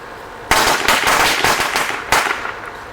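Illegal firecrackers go off outdoors in quick succession, with a loud first bang followed by a rapid crackling burst of pops and a second loud blast near the end, close and sharp.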